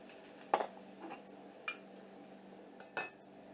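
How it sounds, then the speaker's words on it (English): A metal tablespoon dips into glass jars while portioning beef pot pie filling, leaving a few sharp separate clinks against the glass, quiet and close, with soft handling noise between. "take my tablespoon and just dip it down into the jar"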